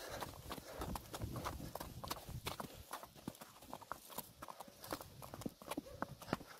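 Hooves of a Kazakh-breed horse clip-clop in a quick, uneven rhythm of sharp knocks, close but fairly quiet, over a soft outdoor background with no voices.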